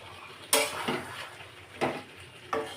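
Chicken being stirred and sautéed in oil in a pan, three sharp metal-on-pan scrapes with a soft clatter in between and a faint sizzle underneath.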